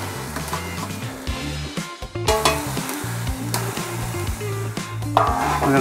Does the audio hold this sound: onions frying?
yes